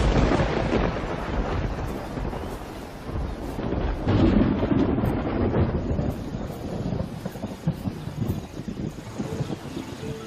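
A thunderstorm with steady rain at the onset of the summer rains in Kruger, South Africa: dense, continuous hiss of rainfall with a deep rolling rumble of thunder swelling midway, no voices.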